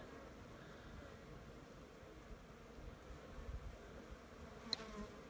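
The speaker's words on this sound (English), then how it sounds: "European honeybees. All over this thing. See all the bees flying around?" European honeybees hum faintly around a toyon tree in a soft, continuous drone, steady and distant-sounding, with light rustling and no voices.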